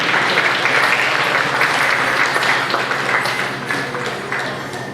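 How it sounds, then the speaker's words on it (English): Sustained loud applause from a powwow crowd for a men's chicken dance competitor at Danceland, Manitou Beach, Saskatchewan, a dense steady wash of clapping that slowly tapers over five seconds. "Let's give him a nice round of applause."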